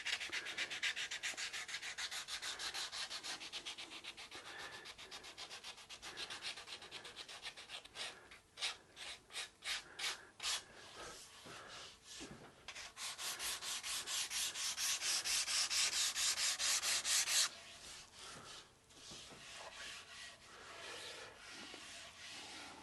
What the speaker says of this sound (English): I think I've sanded the guitar well enough for pore filling